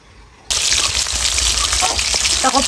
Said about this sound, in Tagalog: Ako po ay nagpiprito na ng